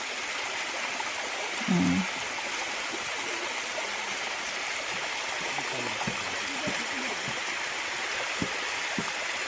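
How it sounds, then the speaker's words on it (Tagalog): A waterfall (busay) reached by a long hike rushes as steady broadband noise throughout, with a brief nearby splash or knock early on and faint voices in the background. "Ang tawag po dito ay busay."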